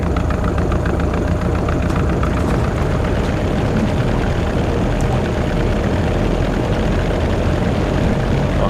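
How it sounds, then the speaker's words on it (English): The de Havilland floatplane's engine in the Prepar3d flight simulator drones loudly and steadily throughout, a continuous propeller-engine roar without talk. "So we're going to fire up the de Havilland here and be ready to go."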